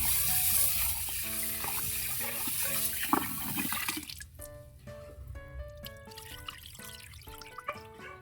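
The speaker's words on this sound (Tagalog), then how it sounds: "hugas tayo ng bigas" Water trickles and drips into a container, then sloshing and splashing with clinking as rice grains are swirled and rinsed by hand.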